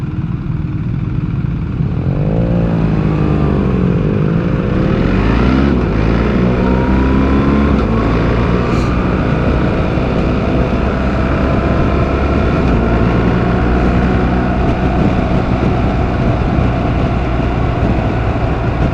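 A BMW R1300GS motorcycle engine runs steadily and close by, its low rumbling harmonics shifting slightly in pitch as it idles, with no talk over it.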